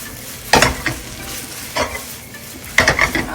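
Noodles for pad see ew being stir-fried in a pan, three bursts of scraping stir strokes over a steady sizzle, close and moderately loud, with no talking.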